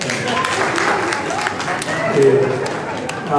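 Applause for someone speaker in a parliamentary chamber, a steady wash of clapping from many members that fills the clip, with some voices and murmuring underneath.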